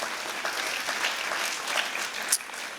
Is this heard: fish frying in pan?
no